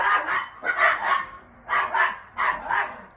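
Several dogs barking in excited bursts, four clustered volleys of loud, close yips and barks separated by short pauses, with no talking.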